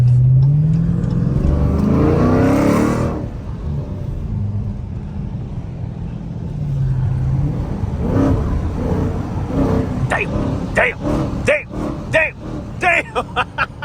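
A Dodge Scat Pack with a loud exhaust roars as it accelerates on a night drive, the engine note rising hard from close inside the car, with people talking excitedly over it near the end.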